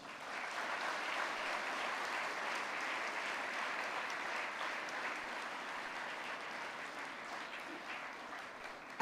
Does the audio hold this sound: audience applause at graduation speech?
yes